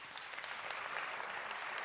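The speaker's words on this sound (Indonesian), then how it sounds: "tolong tepuk tangannya." Applause from the audience at a climate crisis conference session in Indonesia: a faint, steady wash of many hands clapping at a distance, even and unbroken throughout.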